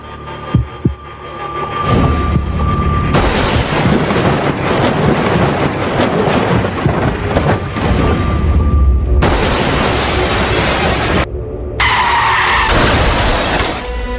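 A car skids and crashes, loud sustained rumbling and roaring noise with booming impacts filling most of the stretch, with no talk over it.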